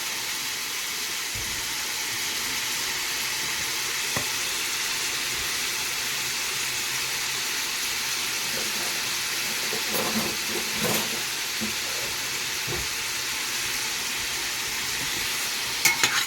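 Vegetables sautéing in a pot with black pepper and a generous amount of Creole seasoning for Louisiana-style red beans and rice, giving a steady, even sizzle with occasional stirring clicks throughout.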